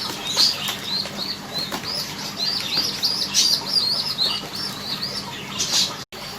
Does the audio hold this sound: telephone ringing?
no